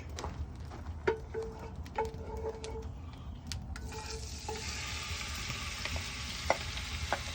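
Cut-up pork steak and smoked sausage browning in bacon grease in a hot pot, a steady sizzle and crackle with occasional scrapes and clinks of a stirring utensil, swelling into a louder, brighter fry toward the end.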